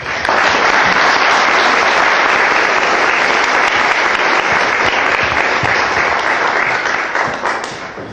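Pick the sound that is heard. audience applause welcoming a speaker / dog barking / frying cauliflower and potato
audience applause welcoming a speaker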